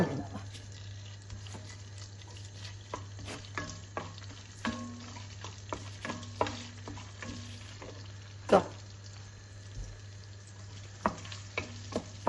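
Ginger-garlic paste sizzling steadily in a pan for egg curry, with scattered stirring scrapes and clinks over a constant frying hiss, one sharper knock near the middle; no voices.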